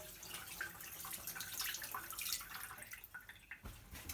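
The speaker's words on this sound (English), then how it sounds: "I did wash my hands quite a few times, but I'll do one more time" Hands being washed under a running kitchen tap before making cheese and parsley pastry dough, a steady broadband splash of water with dripping and sink sounds throughout, close and fairly even, no talk.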